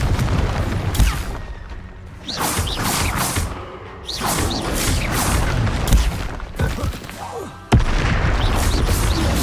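Confringo fire spells blast in Hogwarts Legacy combat, with repeated booming explosions and swooshes over a loud, busy battle.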